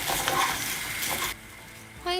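Rice grains stir-fried in oil in a pot for mushroom risotto, a loud steady sizzle with stirring scrapes that drops to a quieter hiss midway before a brief louder burst at the end.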